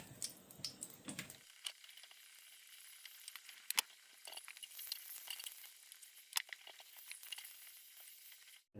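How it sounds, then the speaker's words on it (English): Taco shells get a quick, light fry in oil: a faint, crackly sizzle with scattered sharp pops, after a brief louder burst of handling at the start. "Just do a very quick, light fry"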